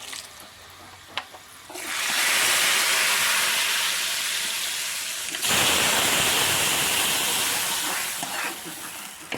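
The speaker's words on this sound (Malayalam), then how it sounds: "നമ്മുടെ വെളുത്തുള്ളിയൊക്കെ നന്നായി മൂത്തു നമുക്കിത് കറിയിലേക്ക് ഒഴിച്ചു കൊടുക്കാം" Hot oil with fried garlic tempering poured into a white bean and mango curry, bursting into a loud, broad hiss that rushes for several seconds, dips, then surges again before fading.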